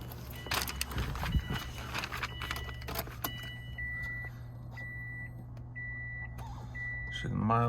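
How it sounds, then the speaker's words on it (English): Keys jangle and a car's warning chime beeps repeatedly before the engine of a 2006 Subaru WRX Wagon cranks and starts at the very end. "All right, let's get in the car, start it up."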